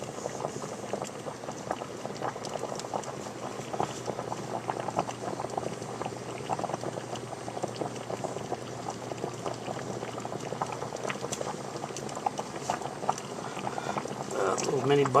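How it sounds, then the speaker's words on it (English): Water rolling at a steady boil in an electromagnetic induction boiler, a dense continuous bubbling and crackling hiss that holds even throughout and swells slightly toward the end. "as the water starts to boil more"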